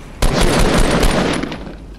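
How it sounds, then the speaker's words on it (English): Close, loud, rapid automatic gunfire in a squad shooter video game, fired as a dense burst of about a second and a half that then fades. "No, they're shooting."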